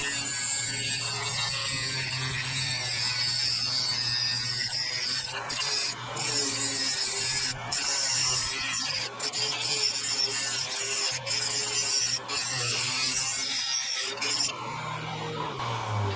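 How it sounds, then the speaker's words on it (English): A Dremel rotary tool with a cutoff wheel grinds through the emblem mounting posts on a 1976 Harley Shovelhead saddlebag, giving a continuous high rasping whine. Several short breaks interrupt it as the wheel lifts off the metal and bites again. "I am using this little grinder Dremel thing with a cutoff wheel, and we're going to cut these posts off"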